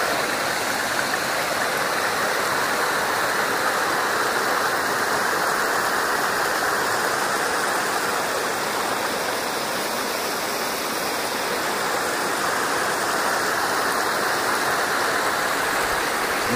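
Forest brook rushing over boulders, a steady broadband roar of flowing water that stays loud and unbroken throughout, close by with no voices or other sounds.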